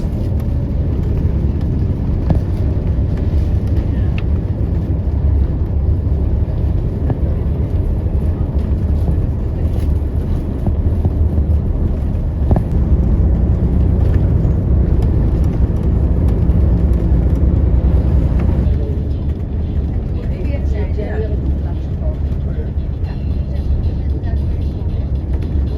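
Tour bus or coach driving along winding Irish country roads toward Doolin in County Clare, a continuous loud low engine drone and road rumble from inside the cabin, with a voice talking over it.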